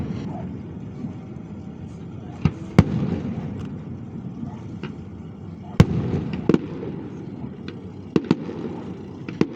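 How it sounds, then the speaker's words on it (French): A small fireworks display launched over a canal, heard from the steps of a square: scattered sharp cracks and pops over a steady crowd murmur and background rumble, with faint voices mixed in. "nous avons eu une superbe vue par-dessus le canal du petit feu d'artifice"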